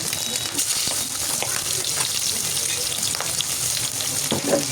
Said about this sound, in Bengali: এর জন্য ডিমগুলো এইভাবে আমি কেটে কেটে ভেজে নিচ্ছি